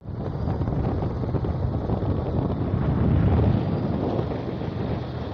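Strong wind gusting steadily at Ramsagar near the Dinajpur zoo, a loud continuous roar buffeting the microphone for the whole stretch and swelling slightly near the middle, with no voices.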